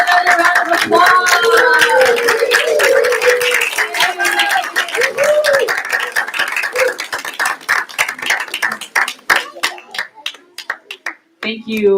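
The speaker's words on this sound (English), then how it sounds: "Let's give another round of applause." Audience at a church graduation service clapping, scattered hand claps of uneven rhythm under children's and adults' voices and chatter, thinning toward the end.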